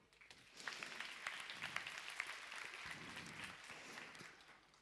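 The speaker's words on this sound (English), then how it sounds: "Applause for you" An audience at a project management summit's opening keynote applauds steadily, a faint but continuous wash of clapping rising quickly and holding without a break.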